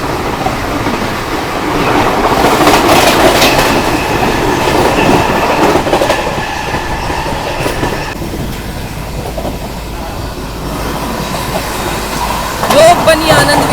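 The Subedarganj–Jammu Mail train passes close by with a loud, continuous rumble and rhythmic clatter of wheels over rail joints, faint squeals appearing toward the end, and someone talking over it.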